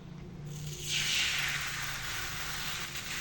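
Appam batter is poured into a hot pan and gives a soft, steady hiss that swells after a moment and then settles, fairly quiet and close, with no voices.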